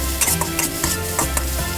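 Dried shrimp stir-fried in oil in a pan, a steady close sizzle with intermittent scraping strokes of a utensil, no voices.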